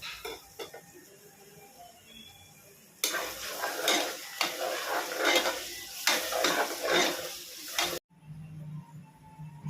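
Onions sautéing with ginger garlic paste in a pan for mutton biryani, a steady close sizzle with frequent stirring scrapes and clinks of a utensil, louder in the middle stretch and quieter at the start and end.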